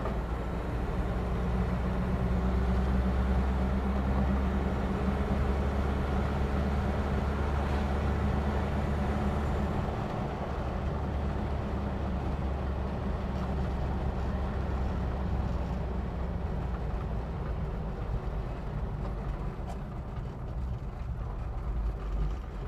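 A stock, high-mileage 1982 Toyota 22R engine fitted with a performance distributor runs steadily, a loud, even low rumble with no break and no voices.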